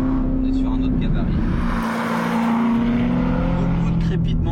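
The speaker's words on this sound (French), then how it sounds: "Beaucoup de crépitement à la décélération" Corvette C7 ZR1 exhaust on deceleration, a loud close drone from inside the car falling in pitch with crackles, while someone talks over it.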